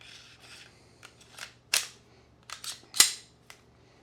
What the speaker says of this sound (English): The levers, pull them down so that you can take the side off,